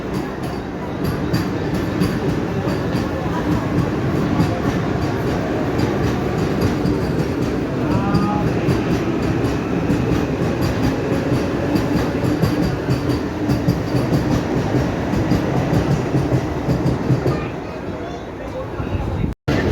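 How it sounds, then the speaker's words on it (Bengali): A Vande Bharat express train rumbles steadily along the rails with a constant heavy roar and faint rhythmic clatter, heard from inside a carriage. "আমাদের ট্রেন ছেড়ে দিল থানা স্টেশন থেকে"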